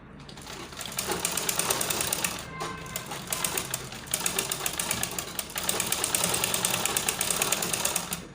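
Sewing machine stitching an Ankara fabric shirt collar, a rapid mechanical chatter running in bursts with brief pauses, close and moderately loud.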